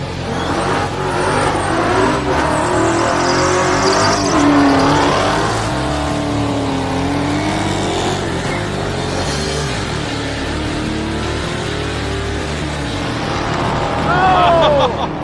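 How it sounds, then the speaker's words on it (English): A 1968 Pontiac Firebird barn find doing a massive burnout, its engine roaring and revving loudly and continuously up close with shifting pitch, and people talking over it. "you gotta do massive burnout"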